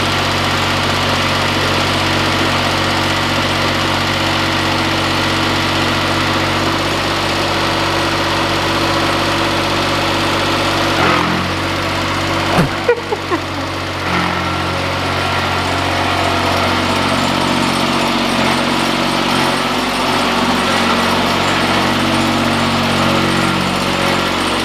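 A diesel engine runs on a homestead with a loud, steady idling drone and vibration throughout, broken by a few brief knocks and clanks midway.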